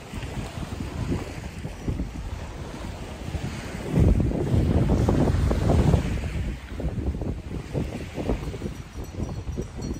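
A boat moves steadily over choppy water, with waves slapping the hull and heavy wind buffeting the microphone throughout.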